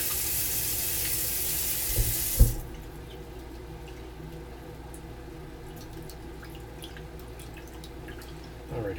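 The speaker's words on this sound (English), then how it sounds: "I think I'll do one more rinse after this" Raisins are rinsed under a running kitchen tap: a loud rush of water for about two seconds, then a small clatter as the flow stops, followed by quiet dripping and faint handling sounds.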